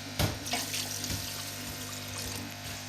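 Water from a tap gushes into a large biryani pot of soaked rice, a steady continuous splashing pour that stays loud and close for the whole stretch with no talking.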